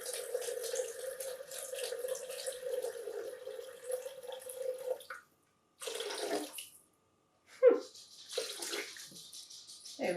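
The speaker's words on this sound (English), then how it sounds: "next we're going to add in some water" Water pours into a cooking pot over cooked carrot and onion in a steady stream for about five seconds, then a few short splashes follow after a pause.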